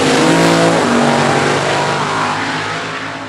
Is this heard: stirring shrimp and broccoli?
no